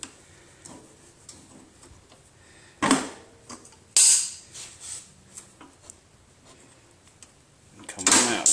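The rear wheel axle is worked out of a 2010 R3T motorcycle with close metallic ticking, clicking and sliding scrapes. Several louder clanks and rattles come in bursts.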